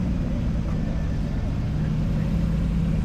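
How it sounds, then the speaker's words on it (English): Porsche Boxster leading a parade of Porsches through Eureka Springs, Arkansas, its engine a steady low rumble that holds evenly throughout. "There's the lead car, the Boxster."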